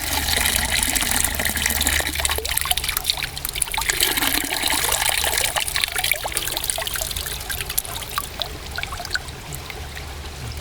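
Water is poured into a basin to rinse a sample of aquatic insects, a steady close trickling and splashing that runs the whole time with small bubbling variations and no talk.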